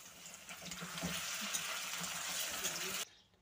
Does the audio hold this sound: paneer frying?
yes